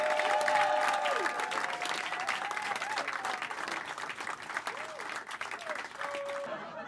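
An audience at a pop-up comedy show breaks into sustained applause for the headliner, with whistles and whoops riding over the steady clapping.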